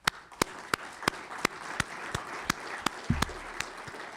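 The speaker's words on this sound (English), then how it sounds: "let's give them a round of applause" A round of applause at a data release presentation for a research project: sharp, evenly spaced loud claps, about a dozen in a regular rhythm over a soft background of scattered clapping.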